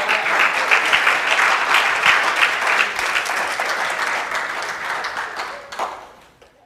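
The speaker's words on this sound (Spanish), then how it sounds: "Póngase de pie, denle un aplauso al Señor." A church congregation applauds together, a loud, sustained burst of many hands clapping that gradually thins and fades out.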